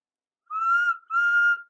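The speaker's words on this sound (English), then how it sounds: "Whistled Thomas at every station." Two long steam whistle blasts from Thomas the Tank Engine, a small blue tank locomotive, sound clear and close with a brief gap between them and no other noise around.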